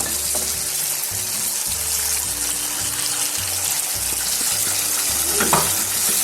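Chickpeas roasting with spices in a pan for Lahori chikar cholay give a steady close sizzle. Repeated scraping strokes from stirring run through it, and no one speaks.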